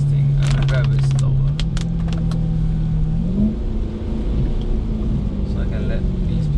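A BMW E93 M3 with a 4.0L V8 drives along with a steady, loud engine drone that climbs in pitch as it pulls, under road rumble and some clicks, with someone speaking over it.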